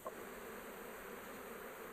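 Honey bees around backyard hives among flowering plants, giving a faint, even buzzing hum that continues through the short stretch with no speech.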